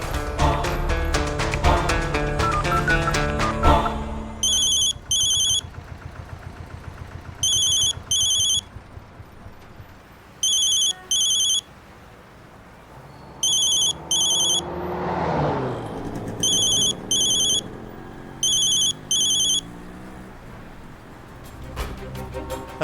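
An electronic telephone ringtone sounds in repeated short double bursts of high, bright beeps, about seven pairs evenly spaced over a loud music-like background with swooshing effects, fairly loud and close.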